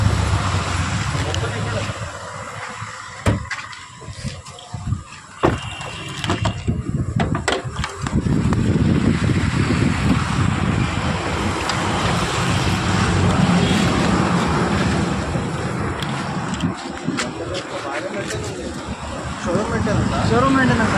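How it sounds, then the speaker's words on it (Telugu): A pre-owned, accident-free, showroom-maintained car runs at a dealership with a steady droning hum, while people talk over it at close range. "ఇంజన్ కూడా చూసుకోండి."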